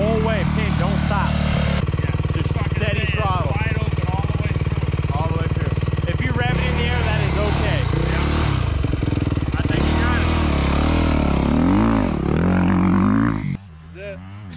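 A dirt bike held at steady throttle on the approach to a road gap jump, its engine droning loud and close with revving swells. Voices shout over the engine, and it drops away abruptly at the end.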